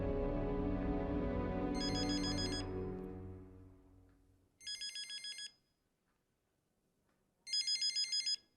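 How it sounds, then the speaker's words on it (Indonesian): A telephone rings in short electronic bursts, three ring patterns spaced a few seconds apart, the first overlapping a fading musical tone and the rest sounding alone, clear and close. "ngapain Mas Riki telepon ke sini"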